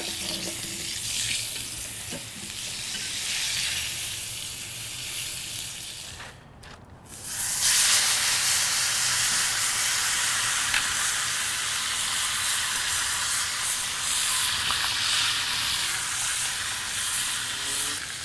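A tomahawk ribeye sears in beef tallow and butter on a Weber grill, giving a steady, bright sizzle that dips briefly and then comes back louder and fuller, continuing without talk.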